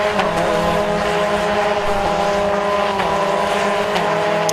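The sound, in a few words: race car passing on track at Anglesey circuit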